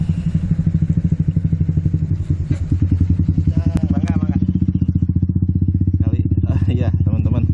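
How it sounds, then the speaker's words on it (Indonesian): A motorcycle passes close by with a loud, rapidly pulsing engine putter that stays strong throughout, while someone talks briefly over it. "ada motor dulu, bentar."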